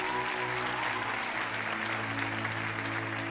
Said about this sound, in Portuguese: Dá uma salva de palmas para a Milena.